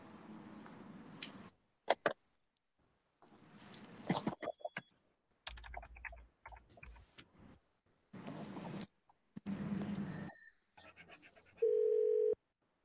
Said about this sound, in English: Okay, I'm dialing in Mr. Morgenthau right now.